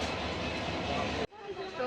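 Passenger train departing Howrah, a steady loud rumble heard from inside the carriage that cuts out abruptly and is followed by quieter, fainter train noise.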